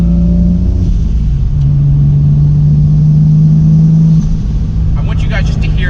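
A widebody single-turbo Toyota Supra's engine drones loudly and steadily on throttle, its pitch rising slightly, while a person talks over it throughout.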